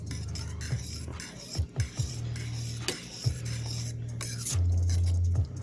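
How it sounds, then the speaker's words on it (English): A utensil stirs a thick Polish Vifon goulash-flavour instant noodle stew in a pot. Quiet, close scraping and clinking against the pot comes in irregular strokes, with a few sharper taps. "I'm just gonna stir it in because it's more,"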